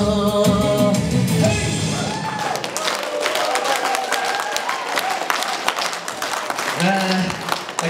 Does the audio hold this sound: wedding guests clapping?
yes